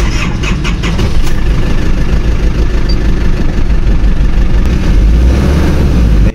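The 4JX1 diesel engine in an Isuzu Trooper, low on power and pouring white smoke, roars loud and close with a heavy, rough, shaking rumble and a faint squeal on top, steady throughout without speech.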